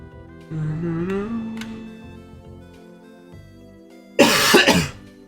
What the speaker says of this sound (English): I can't stop coughing, bro.